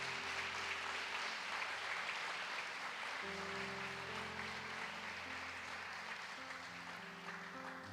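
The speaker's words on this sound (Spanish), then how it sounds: "Dele un fuerte aplauso a Dios" Steady applause from a church congregation fills the space, a soft continuous patter with sustained organ-like musical tones underneath.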